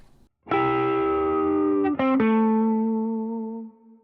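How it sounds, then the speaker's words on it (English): A single distorted electric guitar note is struck already bent and drops in pitch, then rings out sustained and slowly fades. "the pre-bend and release, where I bend the note before I ever pick it"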